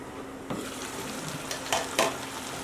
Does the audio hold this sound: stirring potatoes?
yes